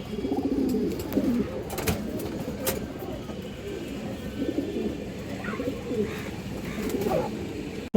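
Pigeons offered for sale, among them a large homer hen, coo in soft repeated rolling phrases nearby, with a few sharp knocks and faint background noise.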